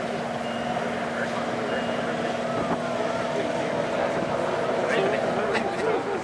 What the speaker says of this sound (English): to see all these combine working in rotation together